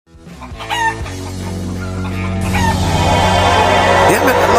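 Chickens cluck and a rooster crows amid a busy, rising video game soundtrack, the bird calls popping up between layered music and effects.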